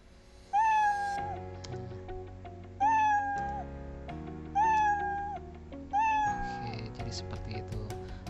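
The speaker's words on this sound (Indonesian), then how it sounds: "mulai suara meong." A cartoon cat sound effect in a Scratch program meows four times at steady intervals, each clear call ringing over a soft, continuous background tone.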